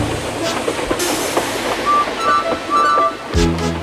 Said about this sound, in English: The first coach moving helped to start the second, and the second helped the third.